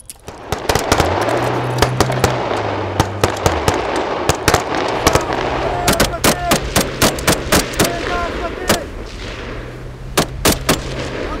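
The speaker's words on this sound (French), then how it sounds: "les légionnaires effectuent leur premier tir sur un lac" Foreign Legion soldiers firing weapons over a lake in the Belgian countryside, sharp shots ringing out in rapid irregular bursts and volleys, loud and close with outdoor echo.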